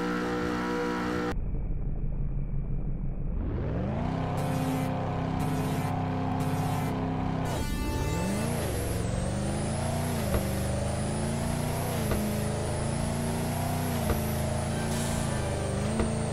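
The SSK Ultrero car in a video game drag race revs up, then its engine climbs through rising gear pulls, dropping and surging again at each shift, with a loud, steady synthetic engine drone.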